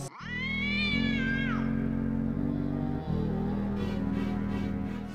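A cat gives a single loud, drawn-out meow that rises and falls. A constant hum continues steadily under it.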